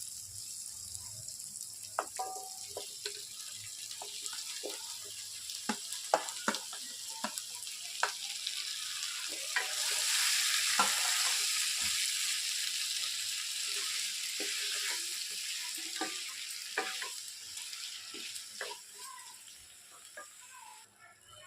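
Cucumber pieces fry with onions and green chilies in a pan, a soft continuous sizzle broken by repeated clinks and scrapes of stirring, with the hiss swelling louder midway before settling again.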